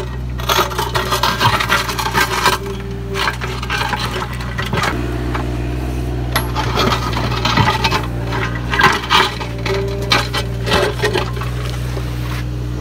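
Mini excavator digging into hard chert rock in a Northwest Arkansas lawn, giving irregular scraping, grinding and clattering knocks over a constant low engine drone, close and fairly loud, with no speech.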